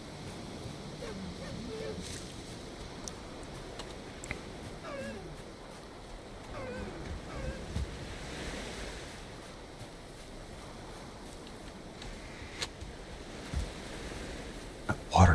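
In the video game Valheim, ocean waves wash against a shore in a steady, rolling surf with wind noise over it. A few faint clicks break through now and then.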